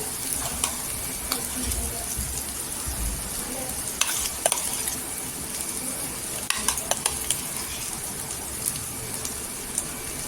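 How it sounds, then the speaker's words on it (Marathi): Green chili thecha stir-fried in hot oil in a pan gives a steady, close sizzle with scraping stirs and a few sharper clicks from the spatula throughout. "आपण हा ठेसा मिक्सरला लावून घेतला आहे तो तेलावर परतायचा"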